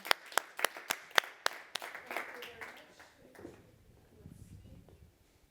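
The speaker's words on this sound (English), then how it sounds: "Let's give them a warm applause" Scattered hand clapping from a small conference audience, a few sharp claps that quickly fade into murmuring and shuffling.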